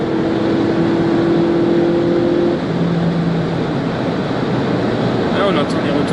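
A 2018 VW Polo 6 GTI engine droning steadily under load with a loud, continuous exhaust note close by, a brief tone shift midway as it changes gear, and faint crackles near the end.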